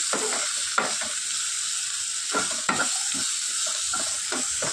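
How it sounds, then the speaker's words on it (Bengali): Pumpkin pieces frying in a pan for misti kumra vorta, a soft steady sizzle broken by several scraping stir strokes at irregular intervals, close and moderately quiet with no talking. "এটা সিদ্ধ করেও করা যায়, কিন্তু আমার মনে হয় ভাজা করে করলেও বেশি টেস্ট হয়, তাই আমি ভেজে করছি"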